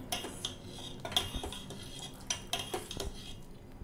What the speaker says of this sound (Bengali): কর্নফ্লাওয়ারটা অ্যাড করে নাড়তে থাকতে হবে, না হলে নিচে জমে যেতে পারে কর্নফ্লাওয়ার।